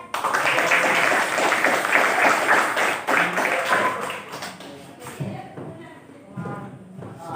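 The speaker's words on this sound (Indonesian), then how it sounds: "Tepuk tangan untuk yang sudah berpendapat." A classroom of students claps, a loud, busy burst of hands that thins out after a few seconds into scattered taps and shuffling, with voices talking over the tail.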